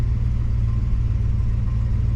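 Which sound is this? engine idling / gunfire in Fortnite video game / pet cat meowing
engine idling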